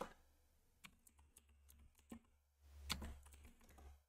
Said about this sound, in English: you have to just type Termux setup and storage